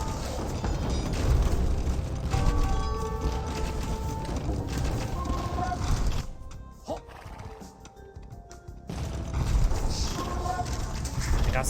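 Knights' horses in Age of Empires 2 battle, with whinnies and clip-clopping hooves over a dense, constant mix of combat noise, alongside narration.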